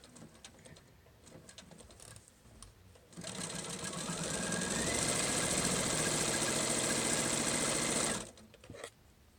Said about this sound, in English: you top stitch close enough to the edge so that you catch that seam or those raw edges down